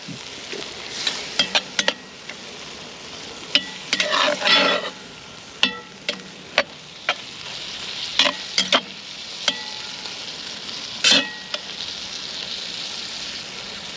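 A spoon scrapes and clacks against a pan while moist, cooking food is stirred. Irregular sharp knocks ride over a soft, continuous sizzle, close and fairly loud.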